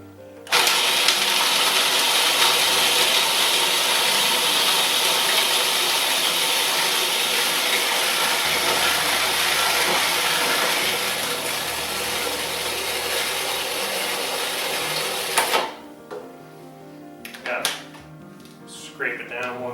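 A food processor blending pesto with olive oil whirs loudly and steadily for about fifteen seconds, then cuts off, leaving quieter handling sounds and a voice speaking.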